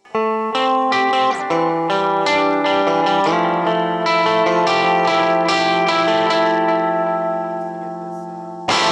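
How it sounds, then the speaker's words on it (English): An electric guitar through a small amp already distorting when turned up, with a gritty tone and some chorus and echo, strumming sustained chords that ring out loudly before a brief pause. "Just to get the amp loud enough to have any low end, it's already distorting without the pedals"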